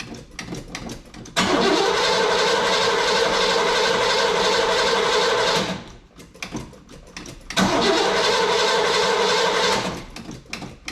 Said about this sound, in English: That sounds better turning over now.